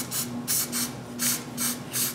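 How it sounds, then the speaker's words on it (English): Spray can bursts coating the masked ends of wooden nutcracker parts, roughly six short hissing puffs in a steady rhythm, close and moderately loud over a faint steady hum. "So when the black is done, I mask the ends and spray them."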